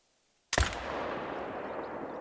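A single Zarza-10 .308 rifle shot cracks in theHunter: Call of the Wild, sudden and loud after near silence, followed by a long, steady reverberating rumble that trails off slowly.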